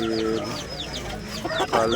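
Native country chickens and roosters cluck at a poultry market in Vijayawada, close and fairly loud, with short repeated calls over a busy background of voices.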